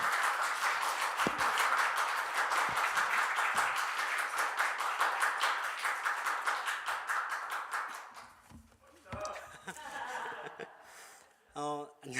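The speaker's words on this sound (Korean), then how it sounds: "우리 나올 때 큰 박수로 격려하고 환영하겠습니다" Church youth-service congregation clapping loudly to welcome a young man coming up to share his testimony, a sustained round of applause that fades after about eight seconds, followed by scattered murmuring and brief voices.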